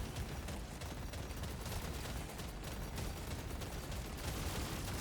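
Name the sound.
plasma weapons firing in Deep Rock Galactic Survivor video game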